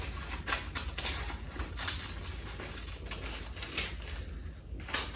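Steady rhythmic snipping and rustling while paper strips are cut for papier-mâché, repeated crisp cuts over a constant background hum, close and continuous, with no talking.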